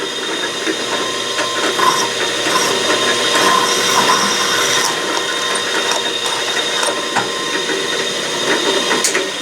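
A drill press fitted with a hole saw whirs steadily with a continuous grinding, ratcheting mechanical noise as the pilot bit cuts, loud and close throughout.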